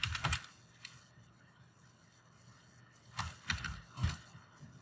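Someone types SAP login credentials on a computer keyboard, with quick clusters of close key clicks at the start and again near the end and quieter gaps between them.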